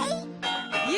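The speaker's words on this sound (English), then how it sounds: "that doorbell sound effect sounds just like the one from the Beetlejuice cartoon" A bright, cartoonish two-tone doorbell chime from the Donkey Kong Country cartoon, like the Beetlejuice cartoon's, rings out loud and close, with a voice speaking over part of it.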